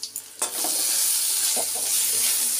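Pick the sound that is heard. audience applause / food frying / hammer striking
food frying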